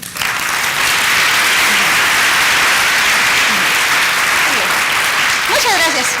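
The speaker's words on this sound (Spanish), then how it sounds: "le damos un fuerte aplauso" Loud, sustained audience applause at a scientific talk on dog brains and cognition, dense clapping from a large room that swells in and holds steady, with a voice briefly heard near the end.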